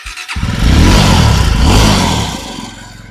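A motorcycle at a used-bike dealership in Una is started: a short quiet moment, then the engine catches and settles into a loud, close, rumbling idle that swells briefly and eases off toward the end.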